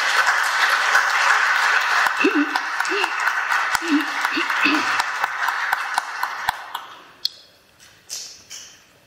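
Applause for the deceased during a memorial mass in a church: a dense, steady round of crowd clapping that lasts about seven seconds and then fades into a few scattered last claps.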